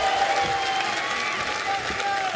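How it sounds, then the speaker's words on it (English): Arena crowd at an AEW Rampage wrestling show cheering and applauding, a steady dense roar of clapping and voices filling the whole moment, loud and continuous. "you hear the reaction, the fans, they want to cheer this woman"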